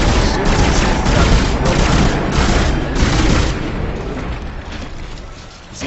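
Gunfire and explosions in the video game Dead Space: loud, continuous booming blasts and rapid shots crowd together, then thin out and fade toward the end.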